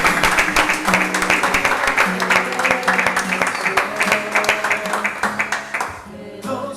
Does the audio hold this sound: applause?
yes